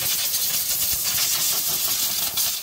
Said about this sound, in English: So I'm just going to blow any sand or anything that's loose up here.